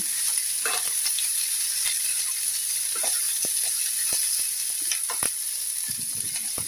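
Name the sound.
cut okra being stir-fried and mixed in pan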